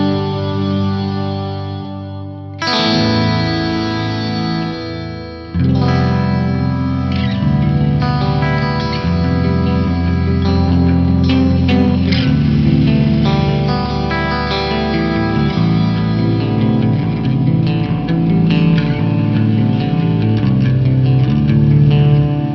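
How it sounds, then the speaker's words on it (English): Fractal Audio FM9 effects unit running a nonlinear reverb patch modeled on the old Roland DEP5 rack unit, panning left to right over dense, chorused electric guitar chords that start after a short pause and swell into a thick, sustained wash. "I've basically set this up to do something kind of similar to a nonlinear reverb type from the old Roland DEP5 rack unit."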